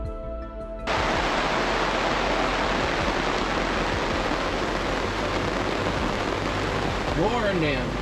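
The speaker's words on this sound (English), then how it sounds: "Then came the deluge, heavy rain drumming on the deck, washing everything clean" Heavy rain drums on a sailing boat's deck at sea during a squall in the South Atlantic, a dense, loud, continuous hiss that starts abruptly after a brief moment and holds steady throughout.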